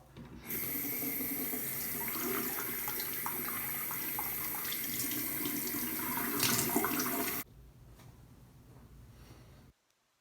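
Tap water runs steadily into a bathroom sink while a face mask is rinsed off the face, a loud, close splashing that drops to a softer trickle before it stops.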